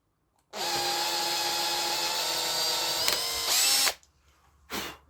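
A power drill bores a pilot hole into metal, a loud steady whine that runs for about three seconds, rises briefly in pitch, then cuts off, followed by a short second burst.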